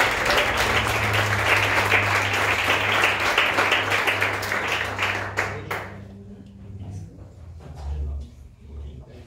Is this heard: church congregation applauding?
yes